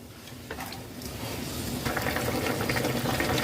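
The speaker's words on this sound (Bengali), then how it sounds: "আলু দিয়ে দু মিনিট ফুটিয়ে নিয়েছি হাই ফ্লেমে" Curry with fried potatoes and hot water boils on a high gas flame, giving a steady bubbling hiss that grows slightly louder and denser, close by, with no talk.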